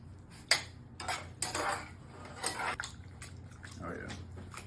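Rigatoni with Calabrian chili sauce, olive oil and Parmesan is tossed together in a pan, with intermittent clinks and scrapes of utensils against metal under someone talking.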